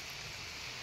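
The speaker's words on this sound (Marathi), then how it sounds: "कुठे पाऊस आहे बघा, पावसात भिजलोय मी" Steady monsoon rain pours over a farm orchard of young cashew and mango grafts in Khed, Ratnagiri, a dense even hiss close around with no voices.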